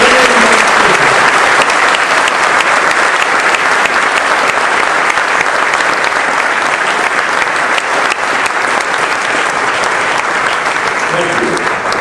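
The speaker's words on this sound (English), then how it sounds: "Well, a round of applause for our choir." An audience at a 50th anniversary gala applauds a choir, producing loud, dense and unbroken clapping that fills the whole stretch without fading.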